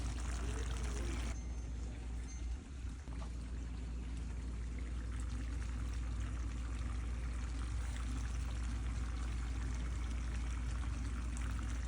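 Soy sauce pours onto cooked pasta in a pot, a steady, soft liquid pouring sound over a continuous low background hum in a kitchen.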